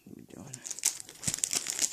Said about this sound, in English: Let's unwrap it.